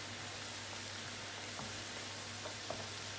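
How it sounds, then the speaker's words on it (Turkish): A soft, steady sizzle of minced meat, onions and walnuts frying in a pan, quiet and continuous, with a few faint clicks of stirring. "Soğanları da 1-2 dakika kavurduktan sonra cevizleri ekliyorum."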